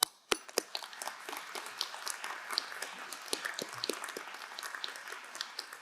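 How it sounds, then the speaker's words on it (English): A commencement audience at a business school claps steadily for a teaching award recipient, producing dense, even applause that keeps going the whole time, moderately loud and at a middle distance, with a few sharper single claps near the start. "please join me in recognizing Professor Ederer with another round of applause"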